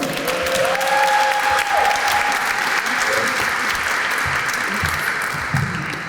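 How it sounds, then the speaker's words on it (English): Gala audience at a Hispanic Heritage Month event giving sustained, even applause as a speaker is welcomed to the stage, a full roomy wash of clapping with a brief voiced shout early on. "Please give a round of applause and welcome to the stage, Dr. Lisa Ramirez."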